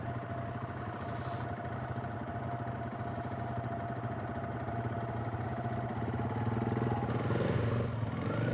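A Yamaha TW200 dual-sport motorcycle on a practice ride runs with a steady, thumping single-cylinder drone heard from nearby, building slightly in loudness toward the end as it pulls away.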